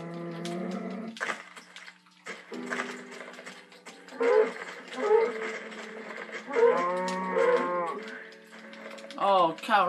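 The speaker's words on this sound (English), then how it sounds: "Cow!" Several loud mooing calls from cattle in Minecraft, spaced across the stretch with short gaps, close and clear, with brief splashy noises between them.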